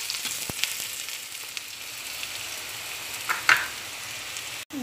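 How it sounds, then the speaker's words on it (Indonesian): Shallots and garlic sauté in a pan, giving a soft, steady sizzle that runs the whole time, with a few brief louder crackles near the end. "Ini kita tumis bawang merah sama bawang putihnya"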